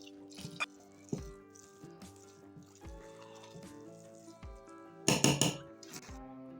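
A spoon clanks and scrapes in a pot while masala moong dal khichdi is stirred, scattered metallic knocks with a louder cluster of clatter near the end, close and without talk.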